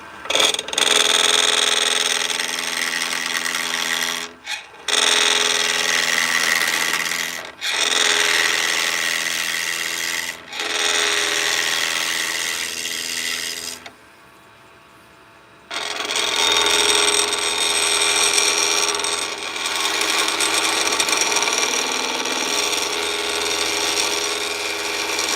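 A skew chisel cuts an Aluminite and epoxy blank spinning on a woodturning lathe, a loud, steady rough scraping drone broken by short pauses, stopping for about two seconds midway before resuming.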